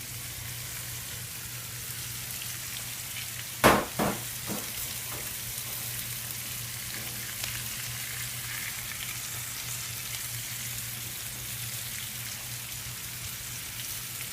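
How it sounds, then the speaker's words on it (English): Spaghetti squash fries in bacon grease with garlic and onion, giving a constant crackling sizzle throughout, with a couple of sharp knocks of stirring early on. "now I'm going to toss in the spaghetti squash and mix it all up"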